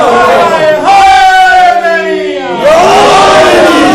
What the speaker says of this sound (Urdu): ہم تو اپنے امام کا نعرہ لگاتے ہیں